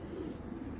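Brief low cooing comes from a large female pigeon kept in a racing pigeon collection, a soft continuous throaty rumble nearby with no voices.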